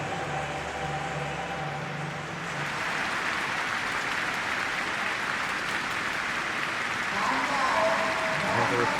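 Stadium crowd noise in the PES 21 football video game, a Champions League night match between Liverpool and Sporting CP: a broad, steady roar from a capacity crowd that swells slightly, with a commentator talking over it.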